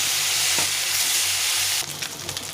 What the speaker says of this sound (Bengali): কড়াইটা গরম হয়ে গেছে, তেলটা গরম হয়ে গেছে, মাছগুলো ছেড়ে দেবো। সবগুলো মাছ একবারে ভেজে নেব।